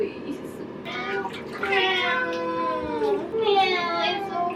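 A small wet cat meows in a thin, plaintive voice while being cleaned up, several drawn-out cries close by, mixed with a woman's soft, cooing talk that also imitates the meow.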